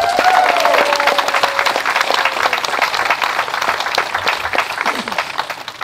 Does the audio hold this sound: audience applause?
yes